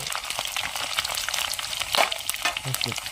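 Garlic fries with fenugreek seeds in a pan for a fish curry, giving a close, continuous crackling sizzle with light stirring scrapes and a few louder spits.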